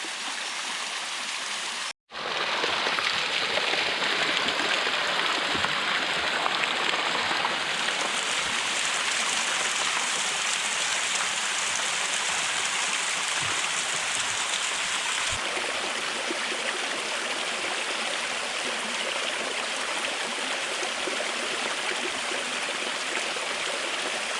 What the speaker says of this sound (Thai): เราจะปีนน้ำตกกันอีกแล้วครับพี่น้อง